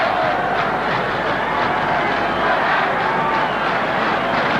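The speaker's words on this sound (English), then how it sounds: "this West Ham chanting and clapping sound like a lot of flamenco dances" West Ham supporters in a packed football stadium keep up steady chanting and rhythmic clapping, a dense, continuous roar of crowd noise heard from a distance with no clear pauses.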